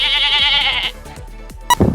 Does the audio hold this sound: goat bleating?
yes